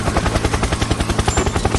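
Helicopter in the Fight Night Battle Royale mobile video game, a loud, close rotor chop with steady rapid rhythmic thumps sounding alone.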